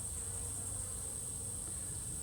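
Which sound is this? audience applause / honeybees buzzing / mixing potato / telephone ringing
honeybees buzzing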